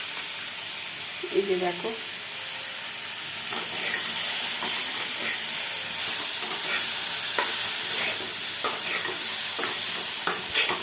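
Fried bitter gourd pieces tipped into a hot pan of oil give a steady, moderate sizzle with scraping stirs, while a voice speaks briefly over the cooking.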